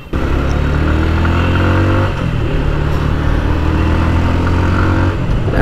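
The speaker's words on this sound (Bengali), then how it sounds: "ইঞ্জিন সাউন্ড মাফলার সাউন্ডটা অনেক বেশি বেজি" A Suzuki Gixxer 155 single-cylinder motorcycle engine and exhaust drone loudly and close, revving up, dipping briefly as it shifts and building again in a steady, throaty pull.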